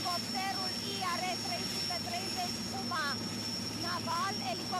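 A naval helicopter takes off on a maritime reconnaissance mission off the Romanian coast, its steady engine and rotor drone continuous and loud beneath someone speaking throughout.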